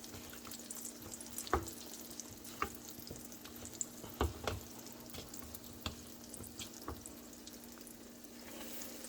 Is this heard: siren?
no